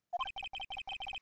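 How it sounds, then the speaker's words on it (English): A phone ringtone from the Phoenix Wright: Ace Attorney video game plays a quick electronic melody. A short rising lead-in is followed by a rapid series of evenly spaced, identical bright beeps, loud and clean with no voices. "I heard a phone ring just now, one of those newfangled ringtones."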